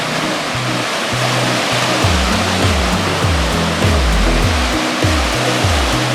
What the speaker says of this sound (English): There's no wind. But the wave is really high. The wave is too strong.